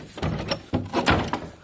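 An original old wooden door in Cooks Hut, a historic mountain hut in Freycinet National Park, broken and being shifted by hand: a series of scraping, knocking thuds and creaks in quick succession, fairly close, with no talk.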